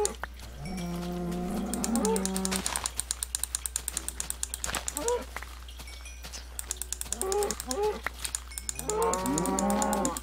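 Cows in the Minecraft video game moo repeatedly: several drawn-out, stepped moos that rise and fall, spread across the stretch, with steady rapid computer keyboard typing clicking underneath and no one talking.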